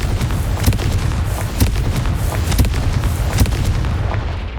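Blast spells fire repeatedly in the Hogwarts Legacy video game, a series of loud booming bursts and impacts over a dense rumbling battle din, with no talking.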